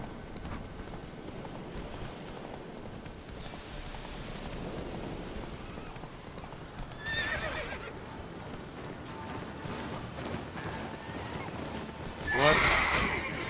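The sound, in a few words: horse Roach neighing and trotting, from video game The Witcher 3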